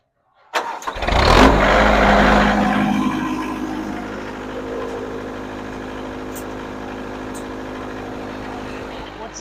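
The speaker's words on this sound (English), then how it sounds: "and then it'll start the engine" A Komplet K-TS 30 compact mobile trommel engine cranks and fires with a sharp burst, roars briefly, then settles into a steady lower idle hum with faint clicks.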